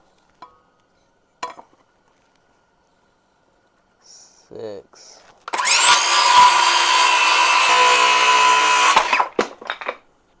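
A piece of wood for a floating shelf is sawn off with a power saw, a loud, steady whine lasting about four seconds after a few scattered knocks and scraping sounds, close up.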